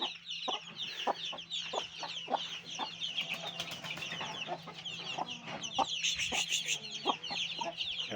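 Young hens cluck steadily in short, repeated bursts, close by, with a constant low hum underneath and no one talking.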